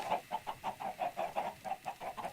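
Egg-farm chickens give a continuous run of short, evenly spaced clucks, soft and fairly close, with no other sounds around them.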